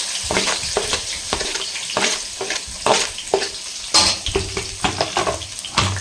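Onion pieces fry in hot oil seasoned with fennel seeds as a Sunday lunch dish cooks, with a steady sizzle broken by repeated scraping stirs close by, and no talking.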